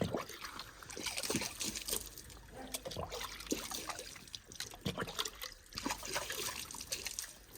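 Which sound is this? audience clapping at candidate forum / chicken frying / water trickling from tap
water trickling from tap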